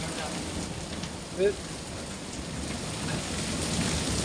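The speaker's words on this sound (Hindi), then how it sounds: "अभी हमारे वहाँ आज ये शाम को बरसात चल रही है।" Steady evening rain pours over a mountain village in Uttarakhand, a constant dense hiss of falling drops with a brief faint knock partway through.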